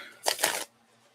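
A brief, close burst of tarot cards being shuffled, about half a second of crisp riffling, then quiet.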